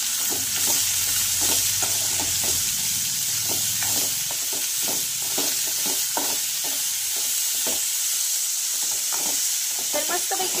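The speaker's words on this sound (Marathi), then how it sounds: "तर मस्तपैकी या भाज्या शिजून घेऊया" Sambar vegetables seasoned with salt and turmeric fry in a pan under a continuous sizzle, while a spoon scrapes and stirs them in repeated clacking strokes, close and fairly loud.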